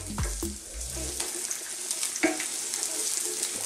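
Garlic fries in a pan as the base for a Filipino Arroz Valenciana, giving a steady, close sizzle with a few clatters of utensil against pan near the start.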